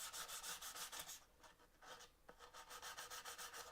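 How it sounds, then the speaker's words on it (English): Sandpaper rubbed briskly back and forth along a timber edge, a fast rhythmic rasping of even strokes with a short pause midway, close and quiet. "a little bit of sandpaper and just clean off the furry stuff"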